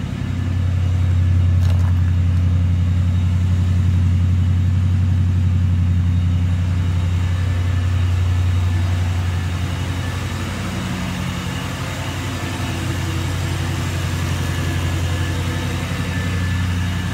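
Supercharged Ford Mustang S197 with MagnaFlow exhaust, the engine idling and cruising with a deep steady rumble and a thin supercharger whine above it, close and continuous.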